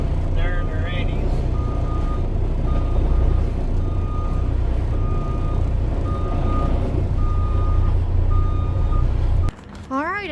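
A reversing truck beeps in a steady repeating pattern at a trucking company's own fueling station, loud and close over a deep diesel idle, with voices talking throughout and the beeping stopping near the end.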